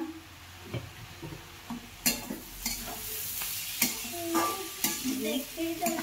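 Poha fries in ghee with curry leaves in a pan, a steady sizzle broken by sharp scrapes and clanks of a spoon stirring against the metal, close and fairly loud with no talk.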